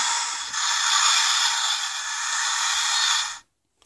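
Built-in sound button on a Revell UNSC Pelican model kit plays a steady, hissy electronic effect for about three seconds, then stops abruptly; close and fairly loud, with small handling clicks at the start.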